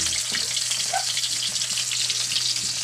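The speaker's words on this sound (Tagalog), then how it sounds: "medyo lulutuin lang natin ng kunti para yung amoy sa adobo natin masarap" Pork innards adobo with onion frying in a pan gives a constant close sizzle and crackle with no pauses.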